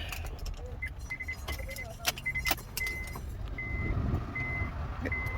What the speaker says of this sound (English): Fan is blowing